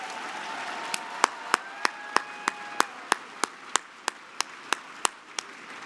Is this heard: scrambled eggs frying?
no